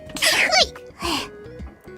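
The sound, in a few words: sneeze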